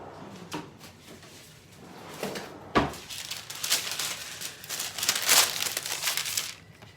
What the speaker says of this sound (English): Let me get a piece of parchment paper.